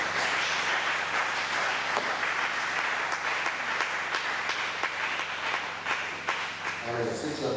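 A church congregation applauds in a dense, continuous wash of clapping that holds steady for several seconds before thinning near the end, with some voices mixed in.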